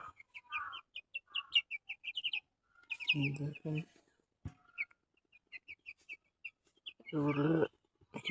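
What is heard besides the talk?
chickens clucking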